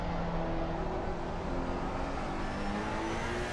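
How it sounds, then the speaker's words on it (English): A race car at Laguna Seca in Assetto Corsa Competizione roars steadily with a loud engine whine that drops slightly in pitch under hard braking, with no talk. "It's really hard braking here."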